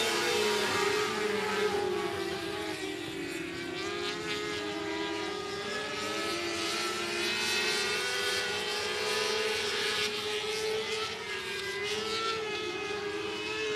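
Short track race cars at 105 Speedway roar in a steady, loud pack, engines droning continuously with shifting pitch as they run side by side.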